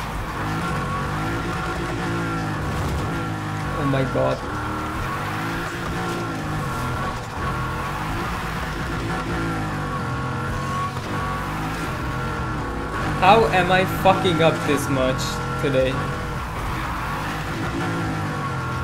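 A 1992 Honda NSX Type R engine drones steadily while driving, with brief tire-skid squeals partway through and a voice talking over it.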